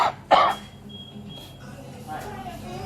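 A single sharp cough bursts out near the start, close and fairly loud, followed by a quieter throat sound and low background murmur.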